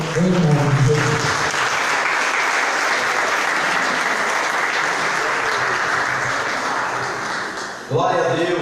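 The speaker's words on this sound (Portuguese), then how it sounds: "Que a igreja se coloque de pé nesse momento e receba o servo do Senhor, aplaudindo ao Senhor bem forte, em nome de Jesus." A church congregation standing to applaud a pastor at an evangelical worship service, with loud, dense, sustained clapping that fills most of the stretch before cutting off, and a voice speaking briefly at the start and again at the end.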